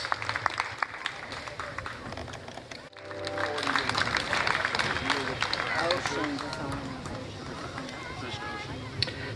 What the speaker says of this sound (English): One more time, nice round of applause for Danielle Stabler.